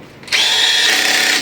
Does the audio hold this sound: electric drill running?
yes